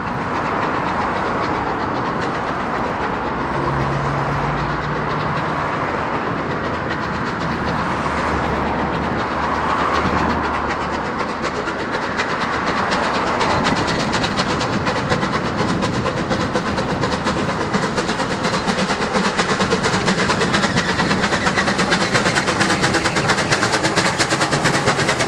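Clan Line, a steam locomotive, hauls a train on its fast run toward London Waterloo via Laverstock Junction, a loud continuous rolling roar with rail clatter building over time, heard close with no voices.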